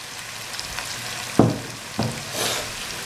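Boiled black chickpeas tipped into masala frying in ghee, giving two sharp bursts of sizzle over a steady background crackle, then a softer hiss of frying as they settle in the pan.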